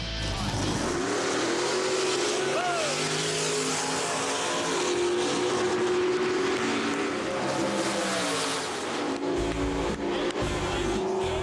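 A 1972 Chevy Nova drag car with a 422 cubic inch all-aluminum small block and Powerglide roars hard and loud down the strip, engine note rising steadily under full throttle with no talk.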